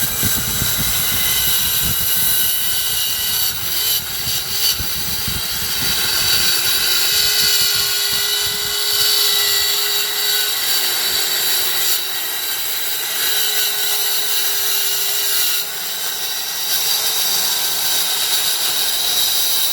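A Guild 500W mini saw cuts through a piece of hard flooring with a loud, sustained high whine and gritty grinding, its tone shifting as the blade bites and runs on, close up with no voices.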